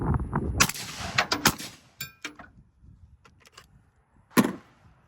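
Two suppressed gunshots from a rifle fitted with a SilencerCo Omega 36M suppressor at an outdoor range: sharp close cracks about a second apart, followed by a quieter metallic clank and a later thump.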